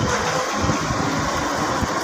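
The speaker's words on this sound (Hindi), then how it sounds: "ये ले ये ट्यूबवेल जो है अभी ट्रैक्टर को चला दिया है।" A tractor engine drives a village tubewell pump, a loud, steady, rumbling idle with constant vibration and no speech over it.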